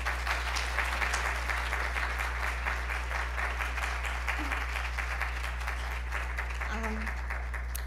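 An evening campus audience gives dense, steady applause to welcome speaker Olga Speranskaya. The clapping stays loud and sustained throughout, over a constant low hum.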